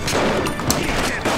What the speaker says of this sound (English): Somebody else is shooting him, that's weird.